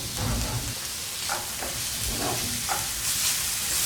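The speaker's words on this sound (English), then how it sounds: "And you're cooking your onions until they become see-through" Onions and garlic frying together in a pan, giving a bright continuous sizzle with several soft spoon stirs and scrapes close by, and no voice.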